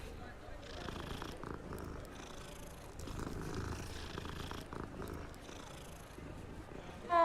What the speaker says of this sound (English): Right now I can pet the cat.